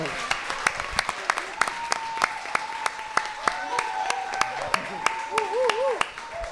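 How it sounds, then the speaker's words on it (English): Scattered, fairly quiet claps ring out one after another at a faith and music industry panel in Atlanta, sharp individual hand claps spaced through the clip while a person keeps talking underneath. "So let's give her another round of applause."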